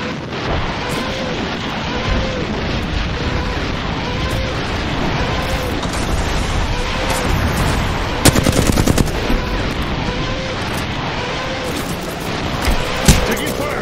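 Dense video game gunfire from a war shooter, rapid machine-gun bursts and shots rattling continuously with a few louder blasts, near and loud, with voices calling out under the fire.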